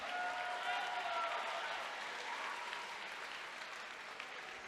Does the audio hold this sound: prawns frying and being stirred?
no